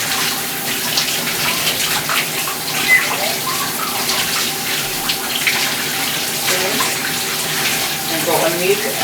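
Water runs steadily from a tap or shower, rinsing shampoo out of natural hair, a constant close splashing gush that fills the whole stretch with only small surges.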